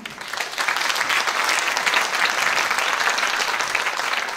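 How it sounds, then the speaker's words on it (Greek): A concert audience gives warm applause for a music conservatory piano teacher, a full, even wash of clapping that swells in quickly and holds steady for several seconds, no voices over it. "Θερμός χειροκρότημα τη Μυροφόρα Αντωνιάδου"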